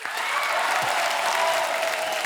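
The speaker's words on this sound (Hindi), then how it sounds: "जोरदार तालियां." Loud, dense applause from a comedy talk-show studio audience, steady clapping filling the whole stretch with no pauses.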